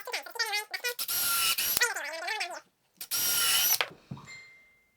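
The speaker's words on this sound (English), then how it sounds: "you take that same pilot bit and you're going to go through this corner brace into that flat part that I chamfered" A pilot bit drills through a wooden corner brace into a chamfered flat on a table leg, giving two loud, sustained bursts of drill whine and bit chatter, with someone talking between them and briefly before.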